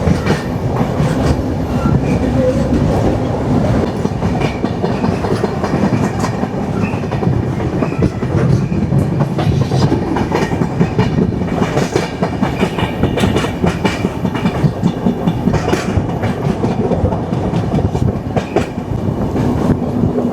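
The Barak Brahmaputra Express rolls along the rails beside a river, a steady, loud rumble with continuous clickety-clack of wheels over joints heard from inside the train, without a break for twenty seconds.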